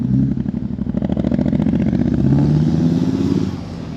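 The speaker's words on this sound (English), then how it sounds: "a lot of cars, motorbikes. It's getting pretty busy." A motorbike engine rattles loudly close by with a busy, throbbing drone of road traffic, fading slightly at the end.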